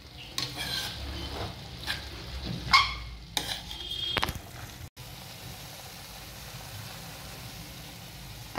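A methi, cauliflower and potato vegetable dish is stirred in a pan over gentle sizzling, with scraping strokes and a few spatula knocks in the first half, then a quiet steady fry.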